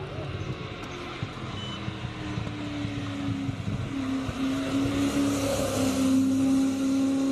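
Air-cooled old-school Porsche 911s, including an older 911 Turbo, drive past at a classic car event in Cape Town. Steady engine drone builds to a louder, rising pass near the end, with a crowd murmuring and voices underneath.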